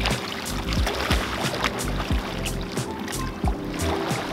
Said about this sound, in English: I'm paddling hard and fast into the oncoming wave